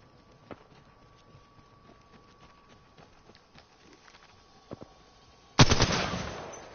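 Apex Legends gunfire hitting a cargo bot: faint scattered clicks and taps give way to a sudden loud burst of shots near the end, ringing out and decaying.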